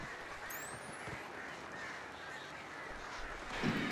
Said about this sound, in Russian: Смотрите, это птицы, птицы какие-то. А, это птицы тьмы.